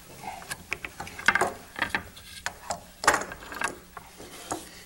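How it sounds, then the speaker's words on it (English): A clamp on a wooden easel is worked loose with a run of irregular clicks, ratcheting creaks and knocks, faint and close, spread across several seconds. "Linda, can you undo that clamp?"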